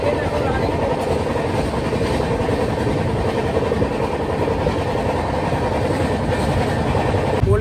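A train running between Kolkata and Siliguri rumbles steadily with continuous low wheel and carriage noise, loud and close throughout, with no distinct clacks standing out.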